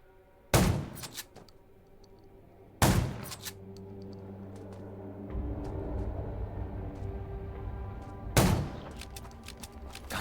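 Gunfire against zombies in the video game Undawn: three loud, sharp shots spaced a few seconds apart, each with a short decay, over a low rumbling game ambience.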